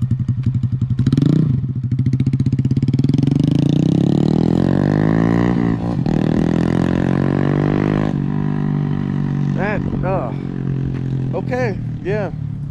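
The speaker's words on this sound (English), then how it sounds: "My first time riding a bike and our new little toy." Honda Grom motorcycle ridden by a first-time rider, its engine revving up and down in loud rising and falling pitch sweeps, close by, with clatter and people talking over it.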